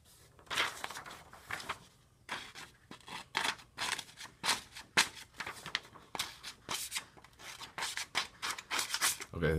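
Knife blade drawn across a 2000 grit sharpening stone on a TSProf guided sharpener: rhythmic, gritty scraping strokes repeating steadily, each a short abrasive swipe, close and fairly clear with brief gaps between passes.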